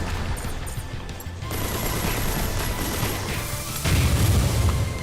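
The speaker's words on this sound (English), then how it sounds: "Love those missile salvos." Rapid missile salvos and gunfire from mech combat in the Mass Builder game, a dense, continuous barrage of explosive bursts with a heavier surge near the end.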